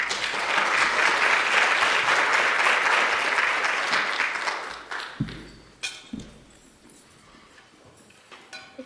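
An audience bursts into warm applause welcoming a speaker, a dense wash of clapping lasting about four seconds before tapering off into a few scattered claps and handling noises.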